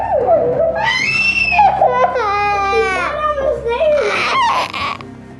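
A young child wails and sobs loudly and close up in a house after a fall, with rising and falling cries broken by short breaths.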